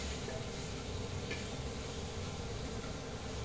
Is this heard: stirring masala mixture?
yes